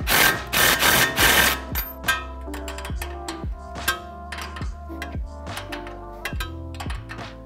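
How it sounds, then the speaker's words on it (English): An impact gun hammering on CV axle nuts of a 2019 Ranger in a shop, with a long loud rattling burst at first, then a string of short, sharp rattling pulses. "hitting these nuts with an impact gun"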